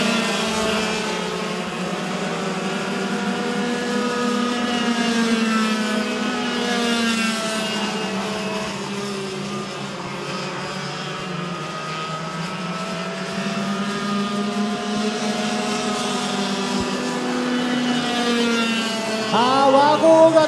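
Several Yamaha racing motorcycles in a Super SS race heat run as a close pack, with a steady, loud layered engine drone and shifting rising and falling pitches throughout.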